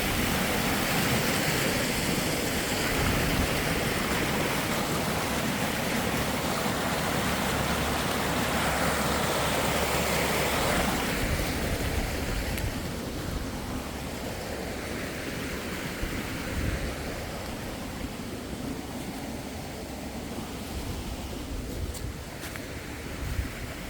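Water rushing through a freshly unclogged garden pond outlet after a heavy storm, a steady broadband gush that is louder for the first half and then settles into a softer, continuous flow.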